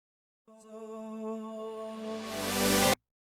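A vocal fragment is reversed, drenched in reverb and reversed again, so a wash of tone swells up and brightens into a hissy rush. It cuts off abruptly after about two and a half seconds and plays alone.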